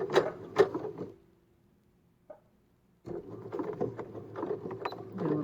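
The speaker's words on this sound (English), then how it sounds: "And I'm just going to sew that." A sewing machine stitches a seam on a homemade cloth face mask, running in a close, steady mechanical burst, falling silent for about two seconds, then starting up again and running to the end.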